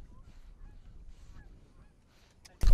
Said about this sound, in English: more geese right behind us.